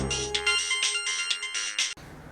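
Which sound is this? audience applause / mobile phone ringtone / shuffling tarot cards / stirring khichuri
mobile phone ringtone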